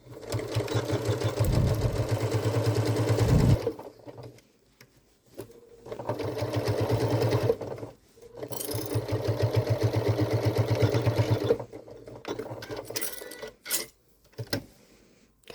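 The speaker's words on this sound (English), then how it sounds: "let's go do that top stitching" Sewing machine top-stitching fabric on a Halloween bucket, running in three long steady bursts with short pauses and clunks of handling between them.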